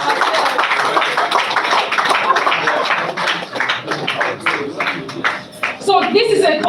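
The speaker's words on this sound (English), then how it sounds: "Please, can we give a round of applause to that?" An audience at a bonding event breaks into a round of clapping, many hands patting in a dense, fairly close rhythm, with voices mixed into the applause.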